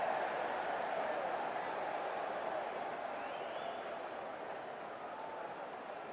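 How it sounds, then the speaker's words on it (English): A large crowd at a cricket ground during a Hundred 2024 men's match between Manchester Originals and Northern Superchargers makes a steady, distant murmur that stays even throughout, with no clear cheers. "It's a great crowd in today with plenty of atmosphere around this ground"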